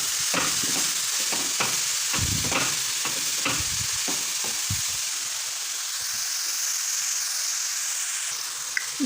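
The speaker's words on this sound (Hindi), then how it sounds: "अब मैंने घी और इलायची में लौकी को डाल दिया है। अब इसको मैं अच्छे तरीके से भुनाई कर लूँगी।" Bottle gourd fries in ghee with cardamom for lauki halwa, with several loud stirring scrapes and thumps over a sizzle in the first half, then a steadier, quieter frying hiss.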